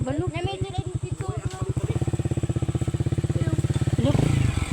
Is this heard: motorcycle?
yes